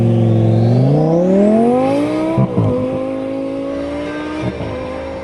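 A tuned Toyota Supra engine revs hard and loud, its pitch climbing steadily through a long rising sweep, then dropping off and settling into a steady high drone with a couple of brief blips, close by and with no talk.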